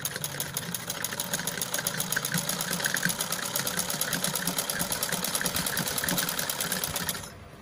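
A sewing machine runs continuously while sewing fine, closely spaced stitches, a steady rapid mechanical clatter at moderate level that stops abruptly at the end.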